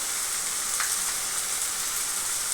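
Ground spices (turmeric, red chili, cumin, coriander) sizzle in hot oil for a Bengali pabda fish curry, a steady, dense frying hiss close by with no talk.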